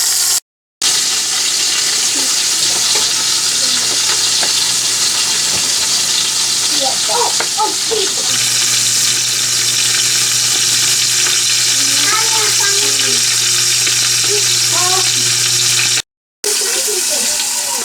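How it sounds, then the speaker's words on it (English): A roast sears in a hot pan, loud continuous sizzling with intermittent scrapes and clinks of a utensil, a brief break in the middle. "I'm just trying to give it a nice sear on each side."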